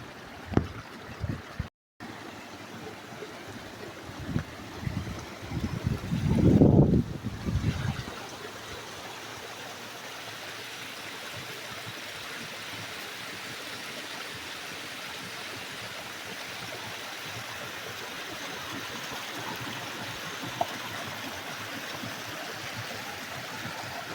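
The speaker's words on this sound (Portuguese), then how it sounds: "A parte tá descendo bastante água." Rushing water from the Cachoeira do Padre waterfall in the winter season, heavy flow pouring down as a steady broadband roar throughout, with a brief louder burst of handling or splashing near the start.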